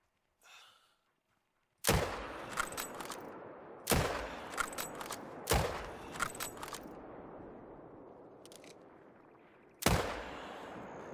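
Four loud, sharp rifle shots in theHunter: Call of the Wild, each with a rolling echo tail, fired at roughly two-second intervals and then again after a longer pause, with outdoor ambience between them and no talking.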